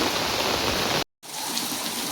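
Heavy rain pours down in a village, a dense, loud, continuous hiss of drops on surfaces that cuts out for a moment before resuming at full strength.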